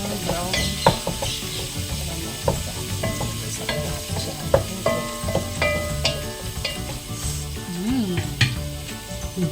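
Pinapaitan ingredients fry in a pan until browned, giving a steady close sizzle broken by frequent clinks and scrapes of stirring, with no voices.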